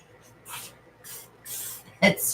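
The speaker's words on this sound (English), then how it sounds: "Spray my cup first." Several short bursts of WD-40 silicone lubricant sprayed into a cup, hissing in quick pulses, with a brief clatter at the end.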